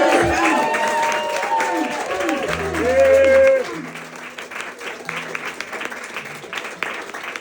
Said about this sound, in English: let's have a round of applause for Steve for letting us figure this out.